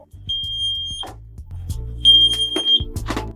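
Smoke alarm aboard a boat gives two sharp, piercing beeps, the second longer, over a low rumbling hum and some clattering handling noise nearby.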